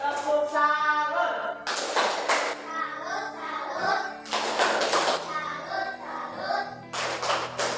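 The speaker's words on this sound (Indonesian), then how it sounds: "Ayo tepuk tangan dulu." A classroom of children claps together in several bursts of dense, close applause, with an adult voice and children's chatter between and over the clapping.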